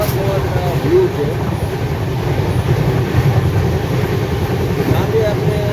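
Steady low rumble and rattle of a moving passenger train heard from inside a carriage, a continuous loud drone with no voices.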